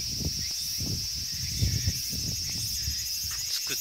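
Cicadas buzz in a park in early autumn, a continuous high shrill drone holding steady throughout, while low irregular rustling and footstep-like thumps sound close by underneath.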